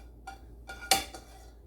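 Chopped potato salad ingredients tipped into a bowl, with a few soft clinks and one sharper knock of utensils against the bowl in a quiet kitchen.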